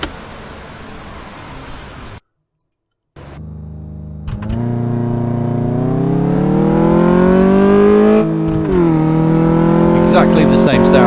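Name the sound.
car engine driving in video game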